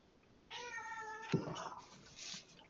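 A pet cat meows once, a clear harmonic cry at close range, followed by a brief low bump and fainter rustling room noise in a quiet home during a tabletop card game.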